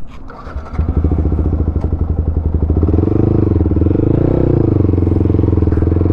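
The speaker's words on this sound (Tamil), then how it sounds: "நல்லா இருக்குங்க R15 ஓட்டுறதுக்கு" A fully modified Yamaha R15 V4 motorcycle with an aftermarket exhaust fires up and revs, its loud rapid engine pulses settling into a steady droning roar while riding on a highway.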